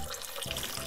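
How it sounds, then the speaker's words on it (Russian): Babbling waterfall water from the visual novel game NekoPara Vol.3 rushes in a brief, loud, continuous wash of splashing, with no voices. "Журчание водопада."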